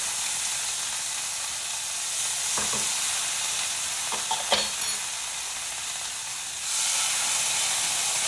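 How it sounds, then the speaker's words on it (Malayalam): Dry meat fries in a pan with a steady, close, bright sizzle and hiss, broken by a few quick stirring clicks and scrapes. "നന്നായിട്ടൊന്ന് വറുത്ത് വരട്ടെ കേട്ടോ."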